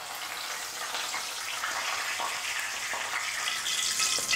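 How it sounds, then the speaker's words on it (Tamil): Curry leaves crackle and sizzle in hot oil for a Tamil mixture snack, a steady dense hiss with scattered sharp pops throughout, close and continuous with no talking. "கடைசியாக கருவேப்பிலை கொஞ்சம் பொரிச்சு எடுத்துக்கலாம்."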